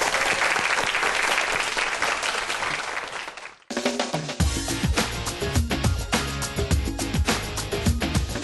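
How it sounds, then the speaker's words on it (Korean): An audience at a youth startup lecture event claps to welcome an entrepreneur on stage. Dense, loud applause fills the opening seconds, then cuts to loud upbeat walk-on music with a heavy beat. "큰 박수로 환영해 주세요."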